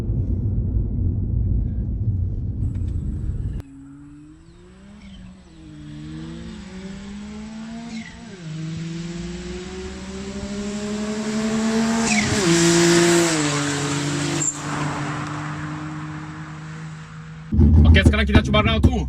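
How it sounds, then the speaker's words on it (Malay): A 270 hp turbocharged Perodua Kelisa accelerates hard, its engine note rising through several gear changes as it revs up loud and close, with tyre squeal mixed in; excited voices shout before and after the run. "Laju gila ini kereta"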